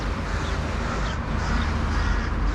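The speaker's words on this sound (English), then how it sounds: "And there's a crow chasing him right there." Crows caw outdoors while one chases another bird, their calls rising out of steady broadband outdoor noise at moderate distance, with no talking.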